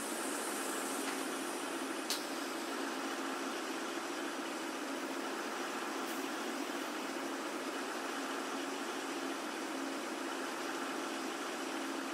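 A 2021 Blue Bird Vision school bus engine runs at a steady, even drone, heard from inside the bus, with a constant low rumble and no voices over it.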